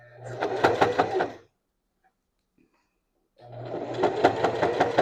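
A sewing machine stitches thick fabric for a throw pillow in two loud bursts of rapid whirring. A silent pause of about two seconds separates them.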